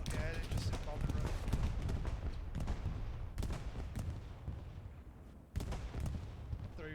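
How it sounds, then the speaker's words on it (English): Bombs from an aerial bombing run burst in the World War II shooter Hell Let Loose as several heavy, broadband explosions spaced seconds apart, with crackling battle noise and people talking throughout. "interesting bombing run"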